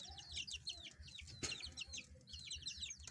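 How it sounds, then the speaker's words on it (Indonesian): Several chickens cluck and chirp close by in a continuous, busy chatter with overlapping calls. "Tuh, ayamnya itu."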